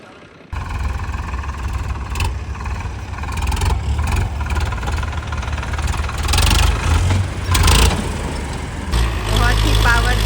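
New Digitrac four-wheel-drive tractor engine running on a farm with a rotavator, a loud steady diesel rumble that kicks in abruptly and surges a few times, with some speech over it.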